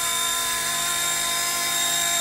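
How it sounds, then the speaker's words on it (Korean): Brushless-motor RC MD500 scale helicopter lifting off, a steady high-pitched electric whine with rotor buzz, loud and close, continuous throughout with no voices. "요거를 이렇게 한 번만 살짝 올렸다가 바로 스로틀 내려주면 헬기가 떠올라요."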